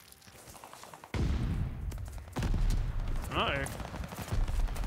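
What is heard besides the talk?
gunfire in video game Call of Duty Vanguard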